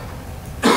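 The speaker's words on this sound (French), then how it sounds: "je vais tousser de temps en temps parce que je suis un petit peu malade" A single sharp cough bursts out near the end after a stretch of quiet room tone, loud and close, from a speaker who is slightly ill.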